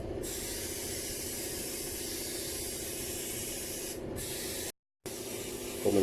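A Graco 395 paint sprayer pump sprays with a steady, loud hiss, broken by a brief cutoff near the end before the spray resumes.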